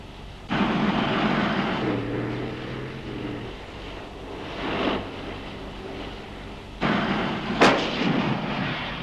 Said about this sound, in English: As soon as a target presents itself, the S-Tank comes to a halt and engages.